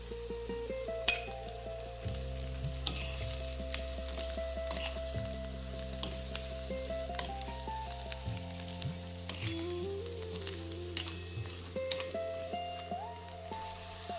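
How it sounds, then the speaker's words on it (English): Fried bitter gourd sizzling in heated masala for a karela curry, a dense crackling fry with scattered spoon taps and stirring scrapes, close and steady, under a soft musical background, with no voices. "Once the masala is heated well, add the fried bitter gourd to it and mix it well."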